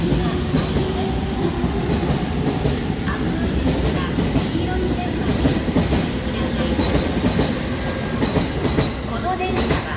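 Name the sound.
Sobu Rapid Line train arriving at Ichikawa Station platform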